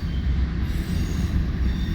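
Train cars rolling through a large rail yard in Boone, Iowa, a steady loud rumble of wheels on track with faint squeal, continuous throughout with no talking.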